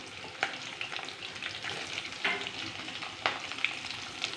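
Green chilies and onion frying in hot oil with cumin and mustard seeds for potato kurma, a busy continuous sizzle with occasional spoon scrapes and clinks against the pan, close and steady.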